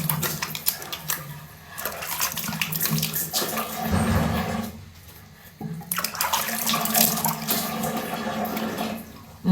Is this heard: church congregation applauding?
no